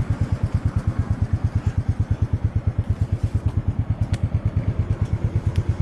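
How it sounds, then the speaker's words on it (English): A Royal Enfield Classic 350 single-cylinder motorcycle thumps steadily at low revs close by, its even rapid pulsing beat carrying on without pause and with no talk over it. "this is going to be my first ride on a Classic"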